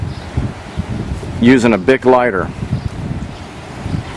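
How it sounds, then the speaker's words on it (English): Wind gusts outdoors in Kansas, a rough rumbling bluster against the microphone that runs under a man's brief speech. "It is Kansas, it is windy,"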